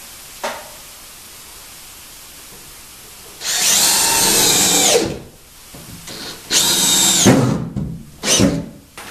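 Power drill driving screws into a wooden board, two loud whirring bursts of a couple of seconds each followed by a shorter burst, with a faint click and quiet pauses between.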